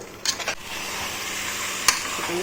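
Marinated chicken sizzles in a kadai as it is stirred, soft steady frying hiss broken by a few scraping stirs and clinks, close and fairly quiet.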